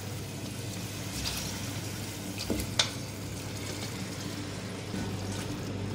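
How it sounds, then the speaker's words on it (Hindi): Beef being fried in a pot for white yakhni pulao, a low steady sizzle with a few clinks of a spoon against the pot, moderately quiet with no talk. "बीफ डालने के बाद 2 से 3 मिनट मैंने इसकी भुनाई कर ली अच्छी सी"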